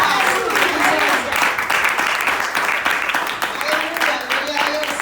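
A church congregation claps steadily for the Lord, loud and sustained, with a voice speaking over the applause throughout.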